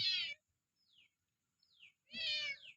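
A kitten gives two loud, high meows near the start and end, with a couple of faint squeaky mews in the quiet between.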